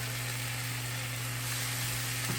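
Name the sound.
ponzu sauce and butter added to hot pan, sizzling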